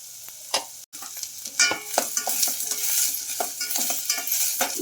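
Onions with curry leaves and cumin fry in a pan and are stirred, a close, bright sizzle of oil broken by repeated scraping and clinking of a spoon against the pan.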